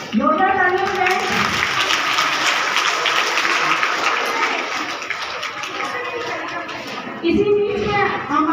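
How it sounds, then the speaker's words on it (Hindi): Loud, continuous applause from a crowd at a Republic Day celebration in Lohagal, Ajmer, steady for the whole stretch with a brief dip and a fresh swell near the end, while a voice speaks over the clapping. "जोरदार तालियों के साथ।"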